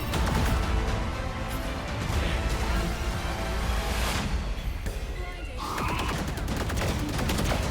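Gunfire rattles in a video game shootout, loud dense bursts of shots running almost continuously with brief lulls, close and busy, and a voice talks over part of it.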